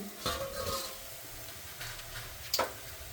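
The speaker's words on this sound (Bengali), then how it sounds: "মাংস খসা রান্না হচ্ছে" Meat kosha cooks in a pan with a faint, low sizzle, and a few light stirring scrapes and utensil taps sound against the cookware close by.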